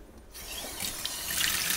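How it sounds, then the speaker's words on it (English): Water from a pitcher pours into a crock pot being readied for a pot roast, a steady splashing rush that starts abruptly and grows a little fuller, heard close with no talking. "You want to fill the crock pot about halfway up."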